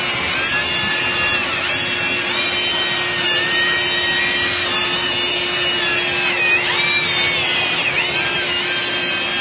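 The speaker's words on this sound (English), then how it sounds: "the missus is running the vacuum cleaner" A steady, droning vacuum cleaner runs continuously with a constant high-pitched whine, slightly distant and unbroken, with no talking.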